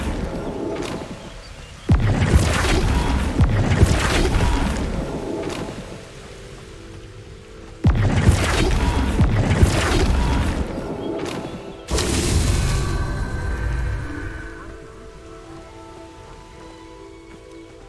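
Descendo and Flipendo spells land in Hogwarts Legacy with loud crashing, rumbling bursts that hit in separate waves, each fading into a roaring, debris-like wash before the next strike.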